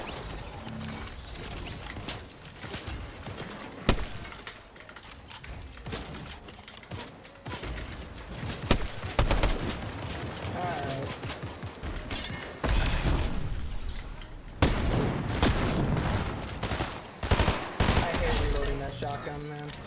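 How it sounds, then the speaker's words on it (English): Dense gunfire in a Fortnite match, loud sharp shotgun blasts and rapid volleys crowding each other through most of the stretch, with bursts of heavier fire near the end and no clear talk over it. "Shotgun, man. It's so annoying."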